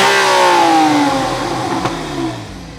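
A Porsche 911 GTS of the 991.1 generation in sport mode revs up loudly nearby, its engine note sliding down as the revs fall away over a few seconds, with no talking.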